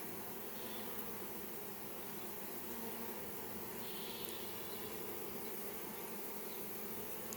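A honey bee swarm gathered in grass near a hive box, its dense, steady hum and buzz filling the air without a break, close and continuous.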